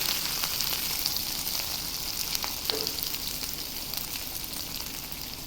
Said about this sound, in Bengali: পেঁয়াজ কুচি লঙ্কা কুচি সাথে আলুগুলো দিয়েও ভেজে নেব